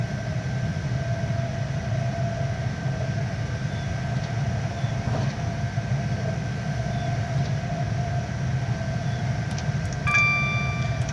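A Class 380 Desiro electric train cruises at about 60 in Train Simulator 2017 on the Dunbar to Edinburgh line, giving a steady low rumble with a constant motor whine, with a brief higher tone near the end.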